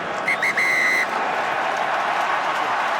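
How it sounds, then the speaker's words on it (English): At the end of a 2013 Six Nations rugby match between Scotland and Italy, the referee blows the final whistle: a few short shrill blasts in the first second, carried over the loud, constant roar of the stadium crowd. "The final whistle is blown."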